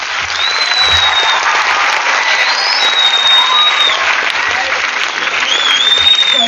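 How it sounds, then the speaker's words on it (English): A round of applause from an audience at a student achievers' talk event, continuous dense clapping filling the whole stretch, loud and steady, with faint tonal whines running over the top. "let's hear a round of applause"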